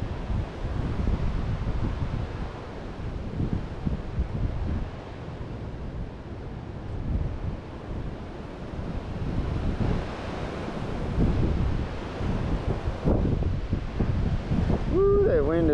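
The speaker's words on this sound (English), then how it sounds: "That wind is nuts out here." Strong wind buffets the microphone beside a river, a constant heavy rumble that lasts the whole stretch, with faint water sounds and a few brief higher noises near the end.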